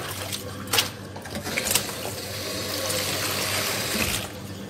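Freshly washed saluyot (jute) leaves drain into a strainer, with water pattering and splashing steadily, close and moderately loud, plus a few sharper drips and knocks.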